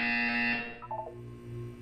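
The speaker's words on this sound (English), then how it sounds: "When you hear the buzzer, look up at the ceiling." A loud, steady electronic buzzer from the video game Portal 2 sounds alone for about half a second, then fades into softer tones and a low hum.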